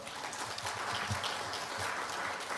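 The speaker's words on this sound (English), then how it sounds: "let's applaud that his great presentation today" Applause follows a keynote presentation at a conference, heard as a steady, dense spread of clapping from a crowd, somewhat distant and moderately quiet, continuing evenly throughout.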